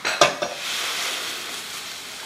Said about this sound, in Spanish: vamos a verter sobre la cebolla que ya está cristalizada